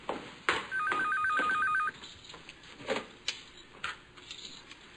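Telephone ringing in a Brazilian telenovela scene, a single electronic trilling ring burst lasting about a second, followed by soft clicks and handling noises in a quiet room.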